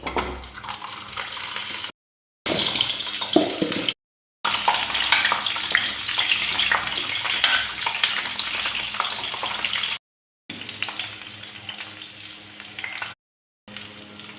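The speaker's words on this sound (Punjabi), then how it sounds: "ਔਲਿਆਂ ਨੂੰ ਆਪਾਂ ਨਰਮ ਹੋਣ ਤੱਕ ਤਲ ਲਾਂਗੇ" Amla (Indian gooseberries) fry in hot oil over a medium flame, giving a steady, busy sizzle with occasional stirring clatter, broken by a few short silent gaps.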